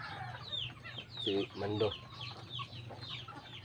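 A rooster clucks in short bursts close by on a backyard poultry farm, with other fowl calling faintly and someone speaking over them.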